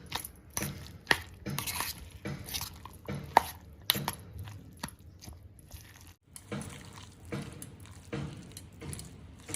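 Roasted brinjal kharda with green chillies mixed by hand in a pot, giving repeated soft squelching and clattering strokes in an irregular rhythm, close and fairly loud, with no talking.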